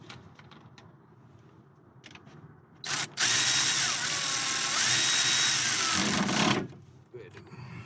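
A power tool whirs loudly and steadily for several seconds while tightening the rear driver's side brake caliper on a Toyota Camry, framed by quieter workshop sounds and speech before and after.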